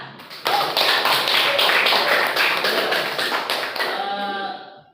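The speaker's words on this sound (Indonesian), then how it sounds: "Tepuk tangan." Schoolchildren clapping their hands together in a classroom during an Islamic religious lesson, a loud burst of rhythmic group claps lasting about four seconds, then fading as a voice starts.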